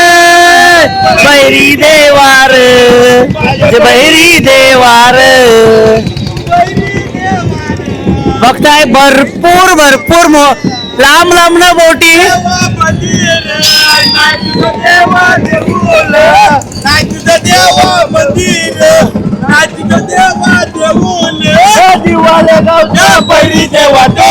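Loud, continuous cheering and shouting crowd at a fishing-village procession welcoming a village deity, with singing over amplified music, people chanting and boats gathered nearby, sustained and energetic throughout.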